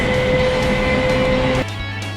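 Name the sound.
loud train interior noise while riding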